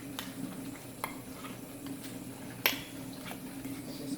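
A spoon stirs a cream cheese and garlic mixture in a bowl, with soft scraping and a few sharp clicks against the sides, faint under a steady background hum.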